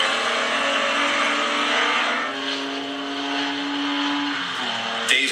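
A 1975 Porsche 911S racing at Laguna Seca, engine roaring steadily at high revs with a sustained whine that holds pitch and then drops as the car passes, loud and close, ending with a short sharp noise.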